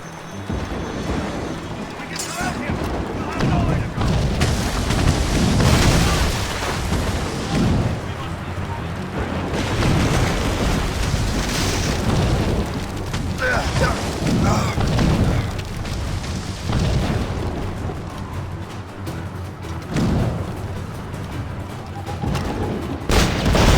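Mortar explosions in the video game Assassin's Creed Rogue boom repeatedly over a dense, loud battle din, with voices shouting through the blasts.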